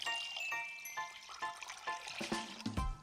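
Water is poured into a saucepan holding sugar for a light syrup, a close, bubbling trickle with gurgling pulses that swells into a fuller splash at the end.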